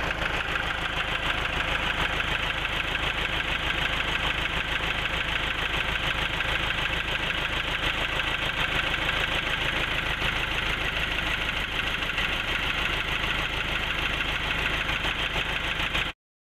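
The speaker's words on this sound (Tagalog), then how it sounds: "Ito naman yung makina mga kapobre." Owner-type jeep engine idling steadily in Cavite, a constant low mechanical drone with no talk, fading out at the very end.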